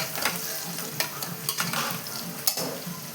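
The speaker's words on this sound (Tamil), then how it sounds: "இப்போது இஞ்சி பூண்டு பேஸ்ட்டு சேர்த்து வதக்கிக்கலாம்" Ginger garlic paste sautéing with golden fried onions in oil for chicken biryani, a close sizzle with quick scraping stirs and light clinks of a spoon against the pan.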